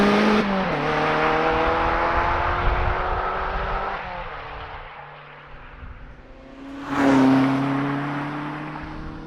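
A Lotus Elise Cup 250 sports car drives the back roads of Sussex, its engine note rising and falling through gear changes, easing off, then revving hard again near the end.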